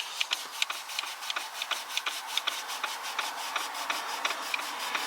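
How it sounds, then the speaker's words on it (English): Gentle rubbing on a car's sticky coated switches as the deteriorating black coating is worn off, a steady soft rasp broken by quick regular scuffing strokes, close and continuous with no talking. "It's just a case of taking your time and rubbing gently."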